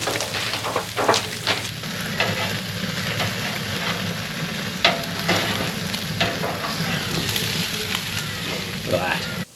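A sirloin steak sears fat-cap down on a barbecue grill, giving a steady, loud broadband sizzle throughout with scattered crackles and pops and occasional faint handling clicks.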